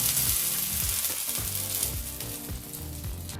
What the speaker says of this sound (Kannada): ಈಗ ಇದಕ್ಕೆ ನಾವು ಒಗ್ಗರಣೆನ ಸೇರಿಸ್ತಾ ಇದ್ದೀವಿ